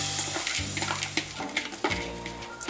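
Lentils tipped into a frying pan with garlic and rice, giving a continuous kitchen clatter of grains and pan contact with light sizzling throughout, close and moderately loud, no talking.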